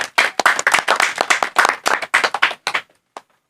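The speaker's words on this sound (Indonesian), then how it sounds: "Tepuk tangan dong." A small group claps hands in a quick, uneven burst of distinct sharp claps that thins out into a few scattered last claps before falling silent.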